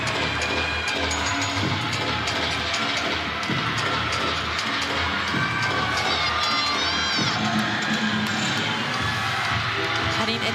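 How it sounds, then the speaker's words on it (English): A crowd at a college gymnastics meet between Minnesota and Washington cheers and shouts steadily throughout, a loud, dense roar of voices with high-pitched screams and whistles rising over it. "The crowd is going wild."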